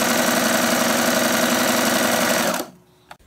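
Sewing machine running steadily as it stitches knit fabric under a knit presser foot at an adjusted stitch length, a loud continuous mechanical whir with rapid rhythmic needle pulses that cuts off abruptly near the end, followed by a faint click.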